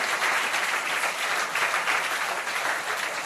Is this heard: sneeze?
no